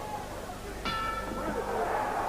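A single ringing bell strike ends a round at a professional boxing match in Las Vegas, sounding once and sustaining over the low murmur of the arena crowd.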